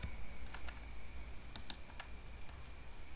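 Keys on a computer keyboard are pressed to type a slash character: a few soft, scattered clicks sound close by but faint, with two slightly sharper taps against a quiet hiss and no speech.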